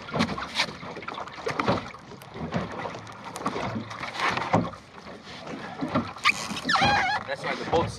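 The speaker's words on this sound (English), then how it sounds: "That's why the boat's slamming." Broadband splashing and thumping from a sailboat hull slamming on waves, with wind rushing over the microphone and some talking mixed in.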